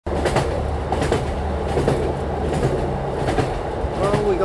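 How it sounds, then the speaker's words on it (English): A passenger train rolls along the rails, a steady near rumble with rhythmic clickety-clack wheel beats and occasional faint squeals throughout. "Well, we got on the train."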